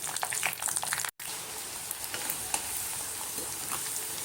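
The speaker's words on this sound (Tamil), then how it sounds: "இதோட நான் ஒரு 5 பட்டை மிளகாய் சேர்த்துக்கிறேன். கருவேப்பிலை சேர்த்துக்கிறேன். இதோட பூண்டு சேர்த்துக்கிறேன்." Dried red chillies, curry leaves and garlic frying in hot oil for mango pickle, a dense steady sizzle close by with stirring scrapes and one brief gap.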